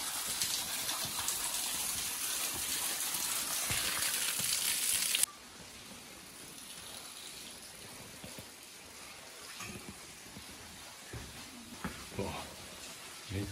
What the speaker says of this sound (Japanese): すごい水音。